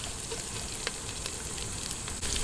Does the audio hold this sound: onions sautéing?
yes